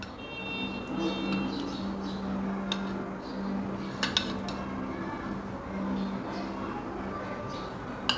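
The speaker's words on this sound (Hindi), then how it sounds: "अब मैं इसके ऊपर जेलीज डालूंगी।" Jelly spooned into trifle glasses brings light clinks of a spoon on glass, a few sharp taps standing out over a quiet kitchen hum.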